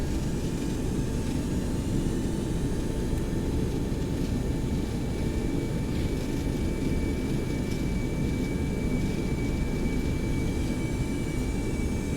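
Boeing 727-200F thrust reversers roaring as the freighter decelerates after landing in X-Plane 11, a loud, steady broadband rush with a constant engine whine, unbroken throughout.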